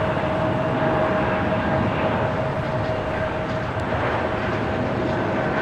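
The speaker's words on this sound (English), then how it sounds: "664 taking off to Toronto on the E195 E2." Porter Airlines Embraer E195-E2 jet rolling down the runway for takeoff at Los Angeles airport, a steady, loud broadband engine roar with a constant whine, no talk.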